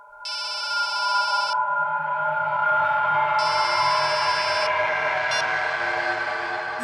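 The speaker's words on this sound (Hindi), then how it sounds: "मैडम, आपका फोन बज रहा है।" A phone rings in repeated electronic bursts, two long trills with a short blip after, over a steady musical drone; no speech.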